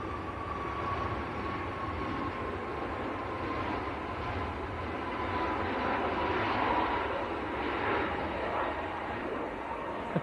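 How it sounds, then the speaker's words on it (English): A Ryanair airliner flies near Manchester Airport, its engine rumble a steady, moderate wash that swells slightly toward the middle, with no voices. "There's Ryanair to Marseille."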